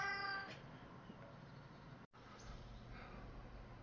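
A cat meows once at the start with a clear, high cry, followed by quiet room noise and faint rustling.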